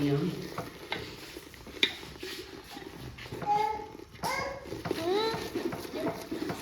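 Flaxseed pinni ingredients being stirred and roasted in ghee in a pan, a steady soft sizzle with scraping strokes of the spoon, close by, while a voice chatters intermittently in the background.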